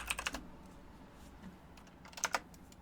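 Computer keyboard typing, quiet and close, with a short burst of key clicks at the start and another cluster near the end, separated by a near-silent pause.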